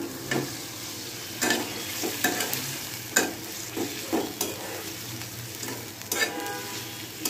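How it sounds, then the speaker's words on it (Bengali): Fried chicken koftas go into a hot pan and are stirred over a continuous close sizzle, with repeated scraping clatters of the spatula every second or so. "ভেজে রাখা কোপ্তাগুলো দিয়ে দিচ্ছি।"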